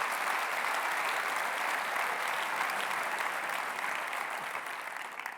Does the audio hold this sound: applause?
yes